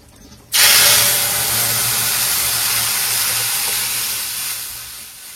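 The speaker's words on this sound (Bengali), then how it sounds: "ডালটাকে হলুদ দিয়ে ঘুটে নিয়েছি, চলো ফোড়নে দিয়ে দিই।" Turmeric-mixed lentils hit hot tempering oil with a sudden loud burst of sizzling that settles into a steady, gradually fading hiss, close by.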